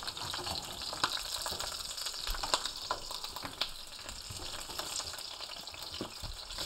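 Lamb shanks sizzle loudly in a hot pan as they are flipped, a continuous close frying hiss with small pops and crackles and no speech.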